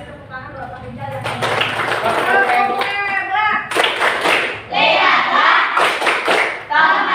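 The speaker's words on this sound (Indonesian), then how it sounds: "Kasih tepuk tangan" Classroom pupils clap their hands together in several loud bursts of applause, with speech in between.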